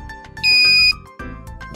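A Simpex 400 Pro HD flash emits a longer beep, a single steady high electronic tone lasting about half a second amid other background sound.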